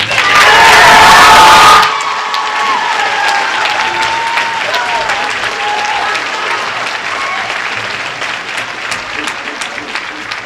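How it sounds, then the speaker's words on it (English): Audience at an all-city band concert claps and cheers, starting in a loud dense burst with shouts for about two seconds, then settling into steadier, quieter applause with scattered whoops that carries on to the end. "if we could put a big round of applause for Mr. Tyson"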